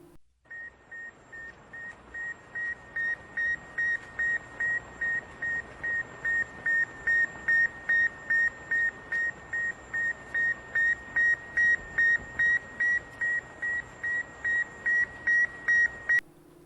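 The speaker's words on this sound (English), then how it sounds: "and it was a beeping sound coming from space." A faint radio signal from the Sputnik satellite gives a regular string of short, evenly spaced beeps over steady static hiss, continuing alone for about fifteen seconds.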